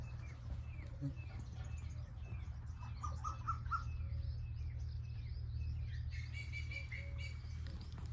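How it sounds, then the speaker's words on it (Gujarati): Asian koels call and birds chirp outdoors in a village over a steady low hum, with repeated tuneful notes ringing out at a moderate distance. "બોલે છે કોયલ બોલે,"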